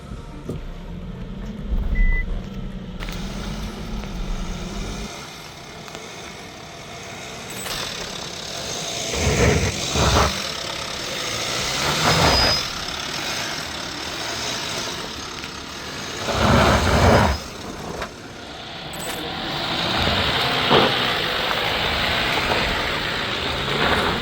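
An MG Gloster SUV climbing up onto an off-road cutting, its engine a steady mid-pitched hum that swells in a few heavier surges, with intermittent beeping over the top.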